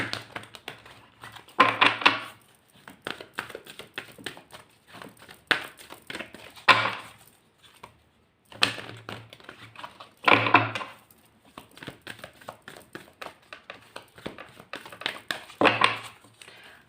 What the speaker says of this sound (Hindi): आप लोगों के लिए कार्ड्स में शफल करना शुरू करती हूँ